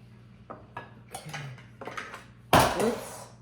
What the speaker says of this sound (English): I'm going to try and break it up a little bit with my spatula